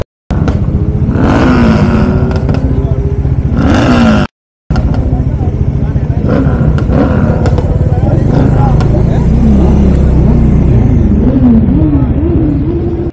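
Loud Bajaj Dominar motorcycles revving and rumbling at an off-road spot, engines roaring and rising in pitch near and far, with a short gap and someone talking over the noise.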